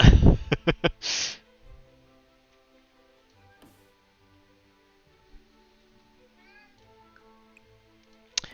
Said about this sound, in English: I know he's meowing because he wants to be let out now